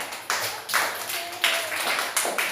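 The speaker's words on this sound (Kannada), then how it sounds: "ಚಪ್ಪಾಳೆ ವೈಷ್ಣವಿಗೆ." Children in a classroom clapping for a classmate, a short burst of several rhythmic rounds of fairly close applause with faint voices underneath.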